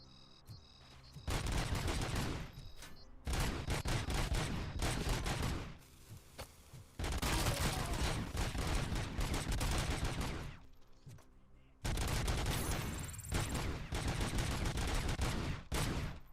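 Sustained automatic gunfire in RoboCop: Rogue City, in long, dense volleys broken by brief pauses, rattling steadily and fairly evenly throughout, with no voices.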